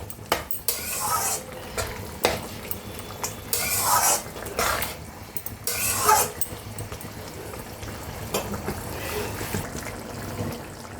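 Egg bhurji curry being stirred in a pan, with repeated scraping and clinking of a spoon against metal in irregular bursts over a soft simmering bubble.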